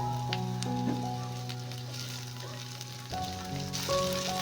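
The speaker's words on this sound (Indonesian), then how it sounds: "Kita tumis bawang putihnya dulu sampai harum" Garlic frying in cooking oil, with onion added after, for a chicken dish; a soft sizzle sits under a loud steady tonal hum with shifting pitches.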